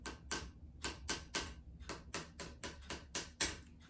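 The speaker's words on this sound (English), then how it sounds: "You can hear my tapping pencil." A pencil tapped repeatedly on a hard surface, about a dozen sharp, close clicks in a quick, slightly uneven rhythm with no voices.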